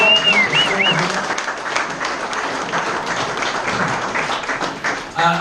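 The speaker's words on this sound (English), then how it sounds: "I think a round of applause for Steve, who's put this evening together tonight." A crowd at a Royal Enfield Watford store opening evening bursts into sustained applause, dense clapping filling the room from start to finish with some voices mixed in.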